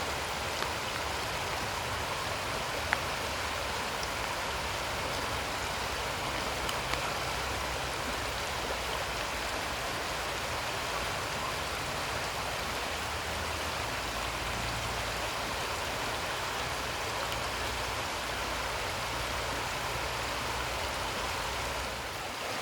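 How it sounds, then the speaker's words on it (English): Heavy rain pours steadily outdoors in the Lake District of Scotland and England, a dense, even wash of drops hissing without pause and sounding close around the listener, with no voices heard. "the rain is coming down so heavily now"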